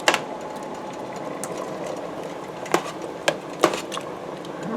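Vegetable salsa comes to a boil in a pot on the stove, a steady bubbling hiss broken by a few sharp clinks of a spoon against the pot near the end.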